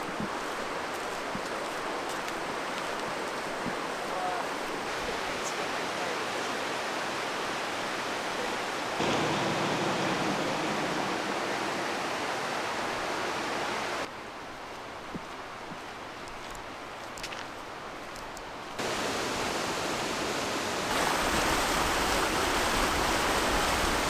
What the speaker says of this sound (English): It's just a beautiful set of waterfalls.